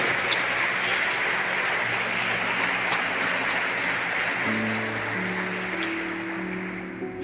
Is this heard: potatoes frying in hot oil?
no